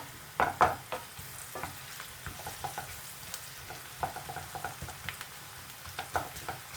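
Onions reducing in a pan for a hot chicken pathia, a soft low sizzle with scattered stirring scrapes and a few louder clinks near the start, steady and close without voices.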